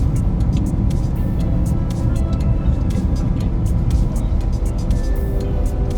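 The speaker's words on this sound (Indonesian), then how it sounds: "suara motor listrik yang paling kedengeran yang pernah saya coba" Cabin sound from a Wuling Air EV electric car while driving, a steady loud low rumble of road and motor noise with a faint whine and small clicks, constant throughout and no voices over it.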